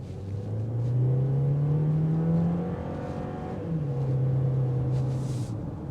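A 2025 Volkswagen Jetta Sport accelerates hard, its engine and exhaust rising in pitch through a gear, easing off, then pulling up again. The drone is loud and steady from inside the car, with no talking.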